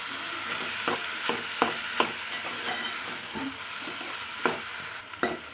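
Tomatoes are stirred into ridge gourd and moong dal cooking in a pan, a steady sizzle broken by repeated sharp scrapes and taps of a spoon at irregular intervals.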